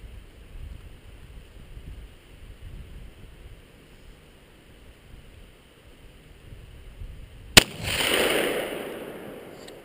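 A single Remington 870 12 gauge shotgun blast fires late outdoors, a sharp loud crack followed by a rolling boom and echo, with steady wind rumble before it.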